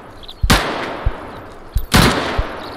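Two heavy gunshots ring out in a Deadside firefight, each a sharp, loud crack with a booming tail, separated by about a second and a half, with fainter thumps around them.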